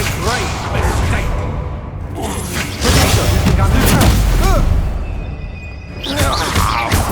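A Confringo fire spell blasts in Hogwarts Legacy, a loud burst with whooshing impacts and crashes stacked across several seconds amid ongoing combat noise and character voices.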